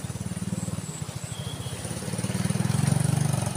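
Motorbike engine revving on a countryside road in the rural Philippines, a close, rhythmic putter of rapid pulses that swells louder toward the end.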